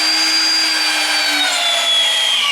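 A Viega ProPress tool running as it crimps fittings on natural gas boiler pipework, a steady loud motor whine with a slowly falling pitch, continuous and up close.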